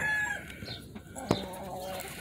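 Gamefowl hens and a rooster cluck softly at moderate distance, with a sharp knock partway through and a low background hum.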